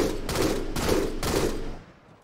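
Battle rifle fire from the shooter game Halo 2 Anniversary comes in three quick, loud bursts spaced evenly apart, and the last burst trails off into quiet.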